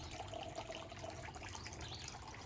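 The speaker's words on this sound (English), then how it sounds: "particularly with the sound of his beautiful fountain in the background. Nothing like running water." A garden fountain runs steadily, a constant soft wash of falling water heard evenly and at a modest distance outdoors.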